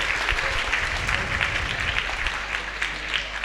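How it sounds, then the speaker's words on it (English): Audience applause during a live Saturday night choir show at a holiday resort, sustained crowd clapping with a low hum underneath. "Give Ian a round of applause"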